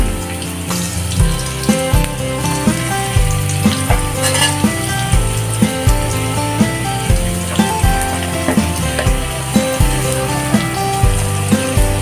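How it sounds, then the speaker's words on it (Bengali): Figs (dumur) fry in a pan with salt and turmeric, a loud continuous sizzle with steady rhythmic scraping and stirring strokes of a spatula throughout, close and without speech. "ভাজি না হওয়া পর্যন্ত আমরা নাড়তে থাকবো"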